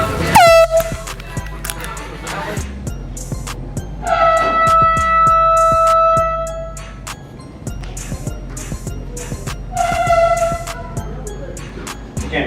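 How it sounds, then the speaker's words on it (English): Air horn blasts loudly in a public setting during a prank, three long honks separated by pauses, with voices and outdoor background noise between them. "It's an air horn, right?"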